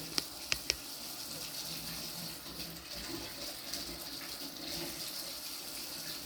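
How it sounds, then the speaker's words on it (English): Tap water runs steadily into a sink as germination tray sponges are rinsed, with a few sharp knocks near the start, close and moderately quiet, no voices heard. "So first I'm going to rinse it under water."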